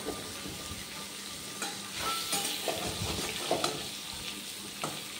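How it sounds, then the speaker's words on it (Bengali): Potatoes frying in a pan for a vegetarian paneer aloo dum, with a steady close sizzle and scattered scraping and clinking as they are turned, no talking. "এইভাবে লাল লাল করে এই আলুটা ভেজে নেব, উল্টে দেবো।"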